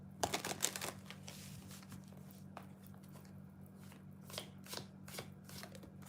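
A circle-shaped tarot deck being shuffled, with quick riffling bursts at the start followed by softer, scattered card flicks and taps over a steady low hum.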